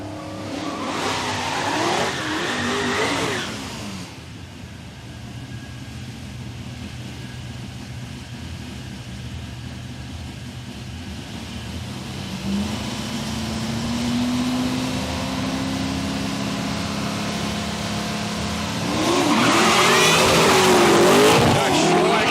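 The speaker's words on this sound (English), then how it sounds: "kept the boot into it, started to skate around, started smoking both tyres" A drag racing car at Palmyra Raceway spins and skates out of the dirt, smoking both tyres: a loud, sustained roar of engine and tyre noise with a rising whine midway, and a voice talking over it.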